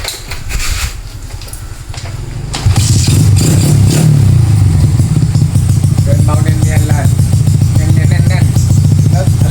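A loud, close carbureted motorcycle engine, tuned for racing, idles roughly, then revs hard and holds a raspy, throbbing roar with sharp bursts of throttle.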